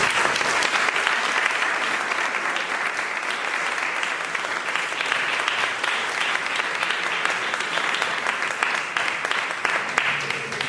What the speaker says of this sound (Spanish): pues le damos un aplauso merecido